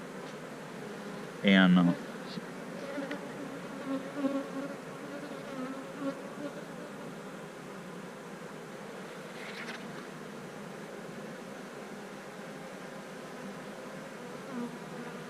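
Honey bees buzz steadily around a honeycomb during comb honey harvesting, a dense, continuous hum close by, with a brief louder bump early on and a voice speaking briefly.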